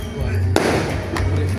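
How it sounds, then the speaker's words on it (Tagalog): Fireworks explode during a barangay fiesta, sharp booms landing among sustained crowd noise and a low musical hum, with people talking throughout. "Og timing kaayo pag abot na mo nag fireworks murag nalipad gid sila"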